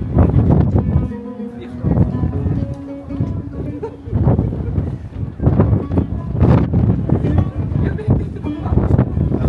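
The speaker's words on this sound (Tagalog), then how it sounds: "sobrang hangin" Strong wind buffets the microphone with a heavy, steady rumble while people talk over it, at The View at The Palm in Dubai.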